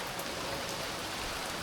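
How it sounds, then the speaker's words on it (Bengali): Rain begins to fall outside a shop, a constant soft hiss and patter of drops lasting briefly without voices. "এখন বৃষ্টি স্টার্ট হয়েছে জাস্ট,"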